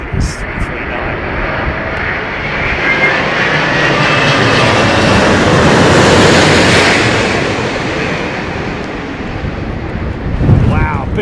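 An Airbus A330-900 jet airliner lands at London Heathrow, its loud engine roar swelling as it passes close overhead and then fading, with wind buffeting the microphone.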